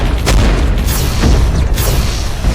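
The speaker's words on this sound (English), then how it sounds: "I just took a grenade to the face" Grenade explosion in a video game, a loud, dense rumbling boom filling the whole span with heavy low-end roar and a few sharper bursts within.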